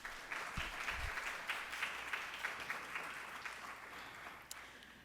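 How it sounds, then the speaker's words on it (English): A church audience at First Missionary Baptist Church claps for a past commission chair. The applause is faint and distant but continuous, with a few low thumps near the start. "Can y'all clap your hands for him?"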